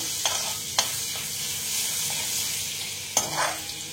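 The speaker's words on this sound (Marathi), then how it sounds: "आलं लसणीची पेस्ट घालणार आहोत आपण," Ginger-garlic paste frying in oil for raw mango kadhi gives a steady, bright sizzle with a few sharp spatters and spoon taps, close up and even throughout.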